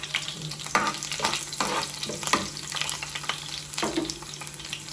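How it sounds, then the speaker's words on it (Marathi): Garlic and curry leaves fry in hot oil, giving a steady close sizzle with crackling pops and occasional stirring scrapes, and a faint constant hum in the background. "कढीपत्ता नंतर लसूण चांगला तापलाय तेल"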